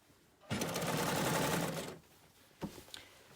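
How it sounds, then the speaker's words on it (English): A sewing machine stitches fabric in one fast, buzzing burst of about a second and a half, then stops, followed by a couple of soft clicks and handling sounds in a quiet room. "we'll kind of see how I really sew, because I'm sitting sideways at the machine so that Sam can get my picture"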